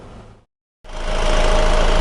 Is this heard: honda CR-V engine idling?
yes